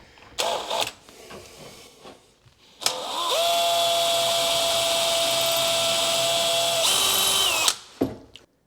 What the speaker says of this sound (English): And I'm going to drill through this face frame going back this direction.